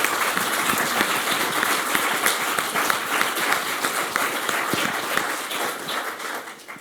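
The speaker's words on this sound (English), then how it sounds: "Round of applause for Laurie." Conference audience at the iPres 2022 digital preservation meeting applauding a presenter: dense, steady crowd clapping filling the whole stretch, fairly close and even, tapering slightly at the very end.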